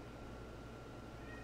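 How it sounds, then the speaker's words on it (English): A faint cat meow sits low in the background beneath a steady, dense hum, with no clear voices. "you guys hear the cat in the background?"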